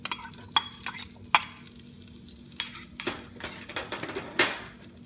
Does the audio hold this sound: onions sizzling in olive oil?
yes